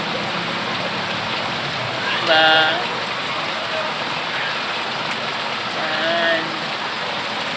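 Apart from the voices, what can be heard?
heavy rain from typhoon Ompong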